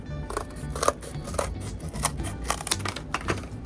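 Scissors snip through mask material, cutting out a snout shape for a cat mask base; a series of close, crisp cuts with small crinkles between them, no talking.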